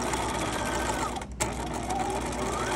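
A sewing machine stitches a wristlet keychain with a steady, close mechanical whir that dips briefly near the middle before running on evenly.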